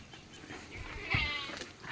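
Goats and sheep from a small village pen of about 31 animals bleat in short, uneven calls close by, with one louder cry near the middle over low farmyard background noise.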